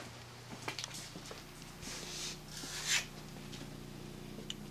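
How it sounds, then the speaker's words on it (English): Light hand deburring of a small metal part, once made as a gauge block, on 180-grit sandpaper: a few faint rasping rubs close by, with soft scrapes and a brief louder swipe near the end. "Just a slight deburring on some 180 sandpaper there"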